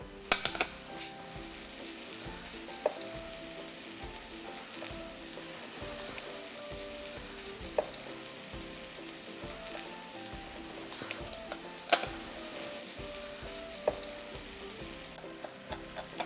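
Garlic cloves fry in a pan alongside onions and leeks, giving a steady, soft sizzle with occasional light pops and faint stirring clicks throughout.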